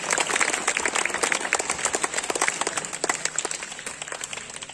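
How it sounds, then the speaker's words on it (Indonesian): A crowd claps steadily in sustained applause, dense and fairly close, slowly thinning toward the end. "Tepuk tangan."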